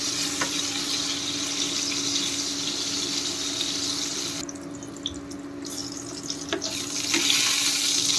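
Brinjal frying in a pan for sukto makes a steady, close sizzle with a constant hum underneath, a short quieter dip partway through, and a few sharp clicks near the end.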